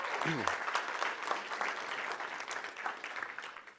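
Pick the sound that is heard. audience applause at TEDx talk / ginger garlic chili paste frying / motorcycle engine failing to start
audience applause at TEDx talk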